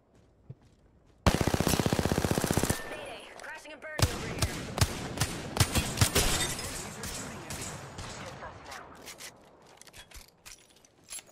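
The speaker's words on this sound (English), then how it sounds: "They spotted me. I'm taking shots." Automatic weapon fire in Apex Legends: a loud rapid burst of shots, then a long run of irregular single shots and impacts of varying loudness, close by, with talk during the exchange.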